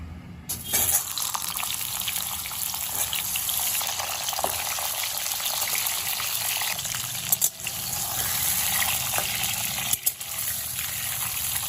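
Pointed gourds hiss and sizzle in hot mustard oil in a covered wok over a high flame, a loud continuous frying crackle that holds steady with a few small pops.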